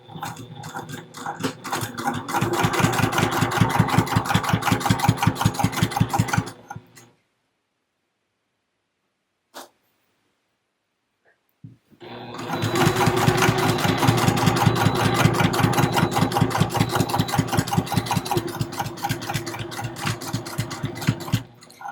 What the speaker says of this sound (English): I'm coming in 3/8 of an inch, and I will start sewing right on that mark.